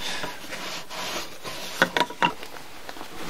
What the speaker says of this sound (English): you're going to want to clean all the dirt and grit off of that with one of your rags